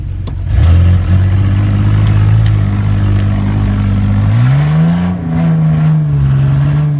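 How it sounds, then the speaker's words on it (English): A cold Ford Ranger engine drones loudly while climbing a hill at speed, its pitch holding steady and then faltering and surging as it breaks up before recovering, close and without talk. "You hear that, how it kind of broke up? It does that when it's cold"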